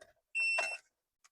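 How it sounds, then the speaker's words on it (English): An Xtool D8W wireless scan tool gives a single short, clear electronic beep as it is plugged into the OBD2 port of a Honda Accord, with a faint tick just before and a tiny blip after. "Made a nice beep noise."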